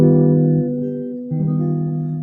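A guitar rings out a minor major seventh chord with a fourth voiced on top, struck twice: the first sustains and fades, then a second strum comes in fresh and holds, clear and close with no talking.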